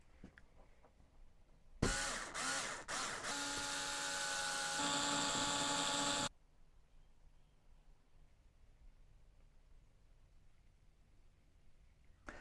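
A power drill bores new screw holes to reposition the hinges of a motorhome bathroom door. It is one loud, close, continuous whine of about four seconds that shifts pitch partway through, with quiet before and after.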